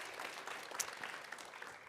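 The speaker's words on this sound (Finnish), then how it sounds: "Annetaan vielä Petterille aplodit" Applause from an audience at a university climate-research event, a fairly quiet, steady patter of many hands with a few sharper claps standing out.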